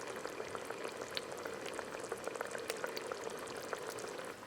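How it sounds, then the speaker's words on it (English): Butter chicken sauce boils in a pot with a steady, dense bubbling, many small pops and crackles running continuously at moderate level with no voices. "I hear lots of bubbling happening."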